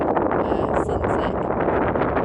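Wind blowing across an open outdoor field at sunset, rumbling steadily against the microphone as a continuous close, loud buffeting roar throughout, with no talking.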